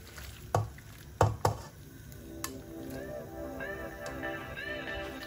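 Pork spaghetti sauce simmers in a pan with a soft steady sizzle. A few sharp utensil knocks come early, followed by faint bubbling and ticking. No one speaks.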